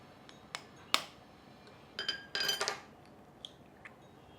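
Egg being mixed into a chicken cutlet mixture in a bowl, with scattered light clinks and scrapes of a utensil against the dish, quiet and intermittent with a brief busier cluster midway.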